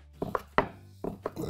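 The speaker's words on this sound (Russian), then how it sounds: "Нарезаем этот бекон, грудинку" Smoked bacon brisket chopped with a knife on a wooden board: about five close, sharp knife strikes in an uneven rhythm, each a crisp thud against the board, separated by short quiet gaps.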